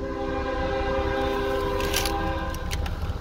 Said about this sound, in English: Hear that fantastic horn on it.